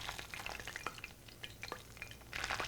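Breaded shrimp frying in hot olive oil in a pan, a soft, steady crackling sizzle with scattered pops that swells louder near the end, close by with no talking.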